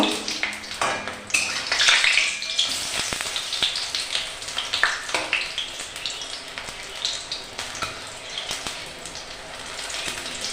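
Bok flower fritters sizzle steadily in hot oil in a pan, with a brief louder burst near the start and soft scraping and clinks as they are turned over, continuous and close with no talking.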